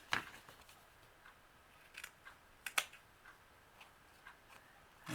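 Scissors trimming paper card that has been glued flat for a large envelope and journal cards: a few sharp, sparse snips spaced irregularly over a quiet background, faint and close, with no voices.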